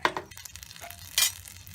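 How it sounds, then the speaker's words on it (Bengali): Dried red chillies being stirred in a hot, dry pan, giving a short run of soft scraping and light crackling with a brief louder scrape near the end. "শুকনো মরিচগুলো একটু হালকা নেড়ে চেড়ে আমি সরিষার তেল দিয়ে দেব সামান্য।"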